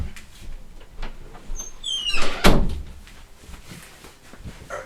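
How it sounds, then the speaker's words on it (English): A door being closed indoors: a soft sliding rustle builds into a single firm thunk midway, followed by quiet room tone, with no talking. "I'm gonna close the door."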